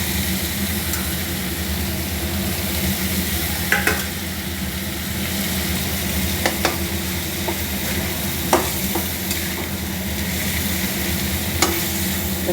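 Boiled banana stem with gobindobhog rice, potato and tomato being stirred in a pan, a steady frying sizzle throughout with occasional light scrapes and clinks of the spoon, no voices.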